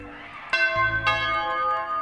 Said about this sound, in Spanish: Tocan el timbre. Qué timbre más terrorífico.